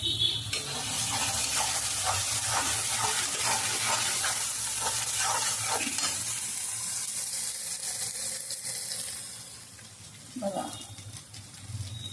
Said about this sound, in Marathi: आपला हा मसाला चांगला फ्राय झालेला आहे